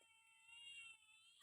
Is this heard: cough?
no